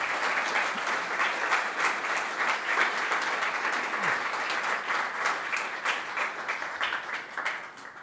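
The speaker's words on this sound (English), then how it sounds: "Keep the round of applause going." Sustained audience applause at the close of a conference talk on machine learning for power infrastructure inspections, a dense steady wash of many hands clapping throughout, fairly distant and even in level.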